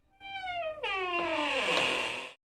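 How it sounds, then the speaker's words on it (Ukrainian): A door gives a single long creak that glides down in pitch, turning rougher and scratchier before it stops abruptly. "Скрипнули двері."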